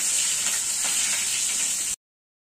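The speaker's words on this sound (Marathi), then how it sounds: "हा जो आपण कांदा बारीक करून घेतलाय ना, हा लालसर होईपर्यंत फ्राय करून घेऊया। आता आपण फ्राय होऊ देऊया कांदा।" Finely chopped onion frying in oil in a home kitchen pan, a steady bright sizzle that holds at an even level for about two seconds, then cuts off abruptly.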